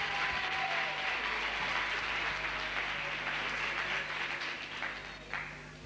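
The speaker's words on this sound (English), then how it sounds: "another round of applause ought to go to Mrs. Jerry Gomez and the parents" An audience applauds after a children's dance performance at a 1987 event, a steady wash of clapping with a low hum underneath that thins out toward the end.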